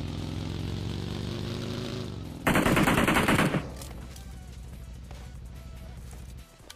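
Rapid automatic gunfire in the PUBG Mobile game bursts loud for about a second over a droning engine-like hum, followed by scattered fainter shots and game noise.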